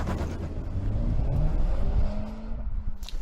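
A 2018 Honda Civic Type R pulls away at full throttle with its revs held steady near 3,500 RPM, giving a loud, sustained engine drone with some wind buffeting and no talking.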